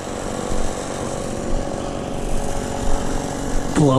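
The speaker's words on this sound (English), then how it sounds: "blower's just idling over there" A small two-stroke engine, a leaf blower idling, putters steadily at low throttle nearby with a rough, buzzing drone.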